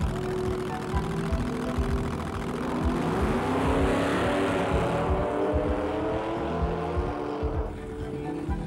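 Hot rod drag racing cars on slick rear tyres rev and launch, a loud engine roar with rising pitch and rapid exhaust pulses that fades toward the end.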